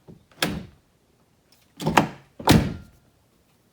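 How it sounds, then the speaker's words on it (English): A Touareg/Q7/Cayenne door, newly shimmed to correct sag, shuts with three solid thunks: one, a pause, then two close together, each a firm, close latch without slamming. "And now the door doesn't have to get slammed, so quick and easy."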